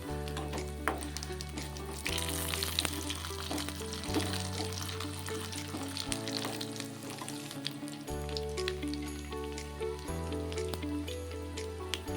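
Chana dal, urad dal, mustard seeds and cumin fry in oil as a tempering for a cucumber chutney, giving a steady crackling sizzle that runs under prominent background music throughout.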